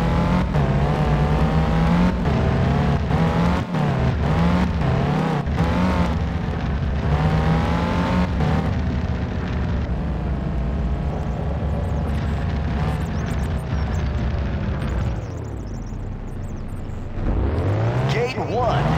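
Porsche cars race in the 2000 video game Need for Speed Porsche, played on a Windows 98 PC with a Pentium III-S 1400MHz and Radeon 8500. Engines whine and rev loudly and steadily with gear shifts and swelling pitch sweeps, and a voice talks over them.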